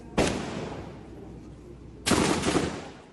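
Two loud gunshot blasts in Haiti about two seconds apart, each a sharp crack followed by a long rolling echo that fades slowly.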